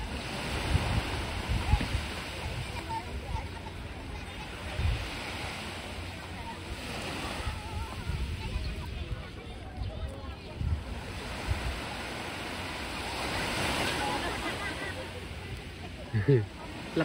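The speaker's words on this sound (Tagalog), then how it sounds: "Lakas ng alon eh." Strong ocean waves roll and crash at a beach cove, a continuous rumbling surf with gusty wind noise on the microphone, while people chat nearby over the water.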